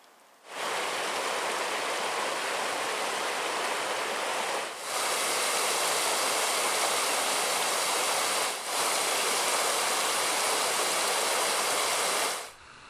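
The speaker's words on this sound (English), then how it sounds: "Now that the creek is flowing" A creek flows nearby with a steady, loud rushing hiss that holds evenly for about twelve seconds, dipping only briefly twice, with no voices over it.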